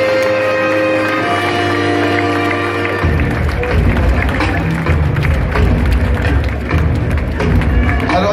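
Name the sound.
audience applauding player Henrik Caquin at Reims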